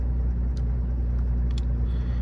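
A Ford 7.3 Powerstroke diesel truck engine idles in cold weather, a low, even rumble close by with a few faint clicks and ticks over it.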